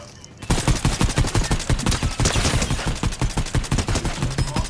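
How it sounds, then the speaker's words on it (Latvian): Rapid gunfire in the Fortnite video game, a dense, loud stream of repeated shots in quick bursts running almost continuously after a brief quiet start, with no talk over it. "Jo pa ko tu šauji?"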